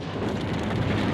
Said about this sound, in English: The next salvo did better